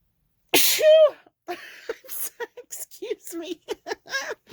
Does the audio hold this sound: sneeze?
yes